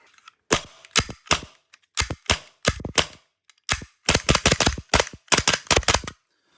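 A Tokyo Marui steel-slide Glock 17 gas airsoft pistol fires a run of sharp, close cracks, first in spaced single shots and then in quicker clustered bursts, with nothing else between them.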